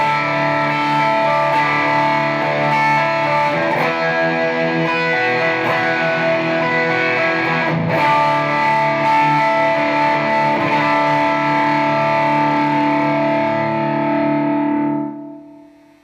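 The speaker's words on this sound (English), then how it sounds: "with the gain totally cranked, you can still hear the individual notes even with complex chords" Electric guitar played through a TC Electronic DarkMatter distortion pedal with the gain fully cranked, loud sustained chords with distinct notes ringing out continuously before fading at the end.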